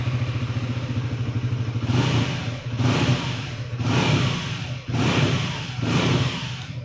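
Liquid-cooled Triumph motorcycle engine running steadily nearby, with a low idle throb broken by four rhythmic revs that swell and fall back about once a second.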